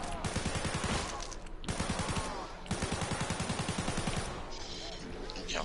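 Rapid gunfire in a zombie shooter game rattles in long bursts, loud and continuous with short breaks, under dense game noise and some overlapping talk.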